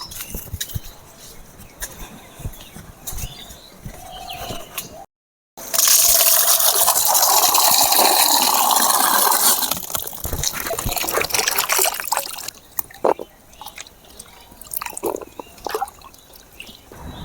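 Raw jackfruit pieces are washed under running water, which gushes loudly and steadily for several seconds. Quieter drips, splashes and handling come before and after.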